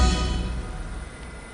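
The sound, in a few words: jet engine aircraft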